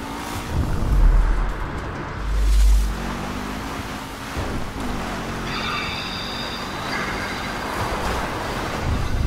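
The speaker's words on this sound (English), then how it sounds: "Train." A train passes nearby with a heavy low rumble and swelling surges, then a high metallic squeal of wheels on rails rises partway through and holds to the end.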